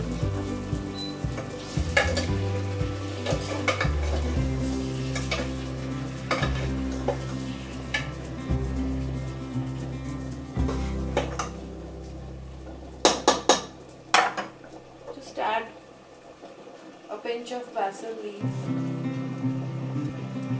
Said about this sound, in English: so now I'll add the tomatoes